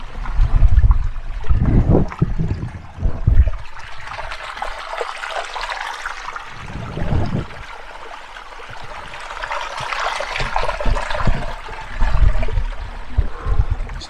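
A small mountain stream at high altitude trickles and gurgles nearby, with uneven bursts of louder splashing and rushing alongside quieter stretches of flowing water, and no voices.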